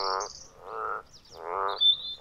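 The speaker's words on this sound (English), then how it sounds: "The frogs are croaking away in the lower frequencies." Frogs croak in low, buzzy pulses, three rhythmic croaking bursts spaced evenly, with a faint high chirp near the end in an otherwise quiet natural setting.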